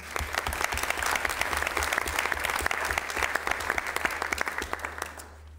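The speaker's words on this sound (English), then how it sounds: "she certainly deserves a round of applause" A school committee meeting audience applauds, a moderately close patter of individual claps forming a steady round that thins and fades out near the end, with a low hum underneath.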